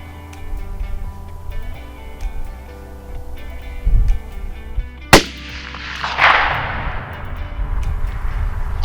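A single loud rifle shot fired at a whitetail buck during a late-season Midwest hunt, a sharp crack followed by a rolling echo over steady outdoor background noise, with no talk.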